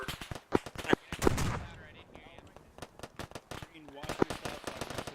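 Sharp, loud cracks and pops ring out during Marine platoon field training, including a heavy blast near the start, like a fragmentation grenade going off among rifle shots, with radio chatter and voices in between.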